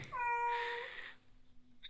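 A pet cat indoors at home gives a single clear meow, close and fairly soft, followed by quiet room noise and a faint click.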